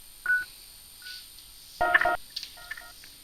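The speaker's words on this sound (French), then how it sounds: "On va donc appeler ce numéro de téléphone" Touch-tone dialing tones as a number is keyed to place a call through GOautodial call-center software, a few short separate beeps with gaps between, one brief cluster louder than the rest, faint and alone.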